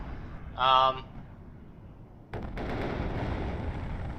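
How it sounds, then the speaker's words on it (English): HE and cluster bomb strikes in the war strategy game WARNO: a brief tonal burst, then a sudden heavy blast that rolls into a sustained rumble of explosions, with a voice talking over the battle. "So we go ahead and we send some HE and cluster bombers over here."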